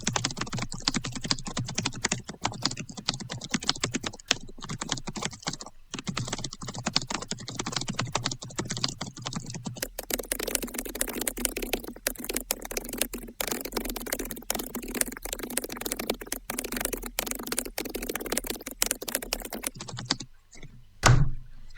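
Fast, continuous typing on a customized computer keyboard, a dense close stream of crisp key clicks and clacks that carries on for the whole stretch with a brief pause near the end.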